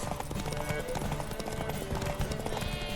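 Rhythmic clip-clop of galloping horse hooves in the video game The Witcher 3: Wild Hunt runs steadily throughout, with a faint voice and game background sounds beneath.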